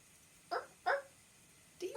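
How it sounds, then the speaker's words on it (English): A small puppy barks three times in short, sharp yaps with gaps between them, close and clear against a quiet background. "Do you hear barking?"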